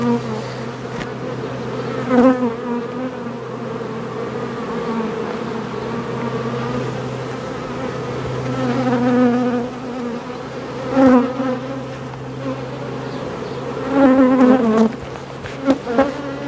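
A honey bee swarm being transferred into a nucleus hive, a dense, continuous buzzing hum of many bees close by with occasional louder individual bees passing near.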